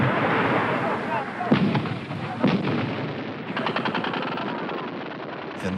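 Barrage of 122-millimeter rockets landing in a valley amid artillery fire, a dense rumbling roar with sharp booming impacts and rapid crackling bursts, loud and sustained in a wartime setting.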